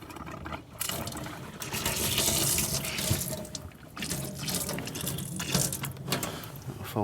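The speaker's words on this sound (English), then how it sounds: "There's your water button. So we'll just put the pump on." Water gushes from the tap of a Fiat Scudo campervan as its pump runs, a steady splashing flow with a hum underneath and a few surges, fairly close and without talk.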